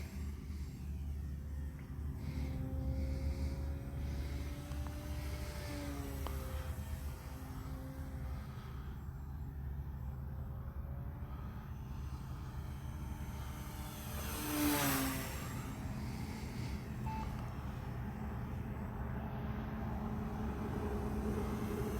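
Radio-controlled P-51 Mustang model plane in flight, a faint distant engine whine rising and falling as it passes, with one brief louder swell, over steady outdoor background noise and no talking.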